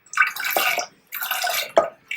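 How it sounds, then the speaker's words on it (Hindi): Water pours from a glass into a pressure cooker holding soaked chana dal, two separate splashing pours with a short pause between, close and clear with no talking. "200 ग्राम दाल है तो 2 गिलास पानी डाला मैंने।"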